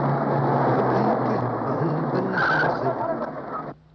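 A car braking to a stop in a Hindi action film scene, a loud sustained engine and tire rush with a squealing skid that cuts off abruptly at the end.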